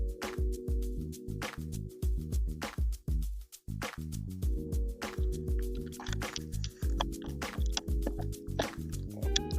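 Coolant is poured into a Subaru WRX radiator through a funnel cut from an old plastic water bottle, making rhythmic glugging, gurgling and dripping sounds close by that continue unevenly throughout.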